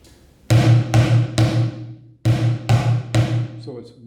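Bucket drum practice exercise for beginners: two bars of sharp, resonant hits on a plastic bucket, a steady pattern of roughly six strikes each with a brief pause between phrases, close and loud with no voices.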